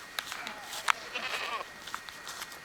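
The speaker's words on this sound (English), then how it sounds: "Bye goats." Goats bleat on a small farm in Doudrac, France, giving a few short cries spread through the moment, one louder and nearer, with outdoor background and no speech.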